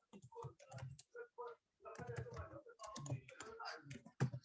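Computer keyboard typing up close in quick bursts of distinct key clicks with short pauses, while entering data into an Excel table.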